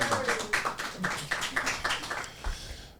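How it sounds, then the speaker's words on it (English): A small group applauds for a few seconds on a podcast set, scattered hand claps in a loose, quiet patter that fades out near the end. "Give us a round of applause."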